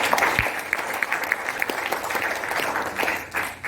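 Audience applause in a seminar hall in Surabaya during a motivational speaker's talk, a steady dense patter of many hands clapping throughout, fairly loud and continuous with no voices on top.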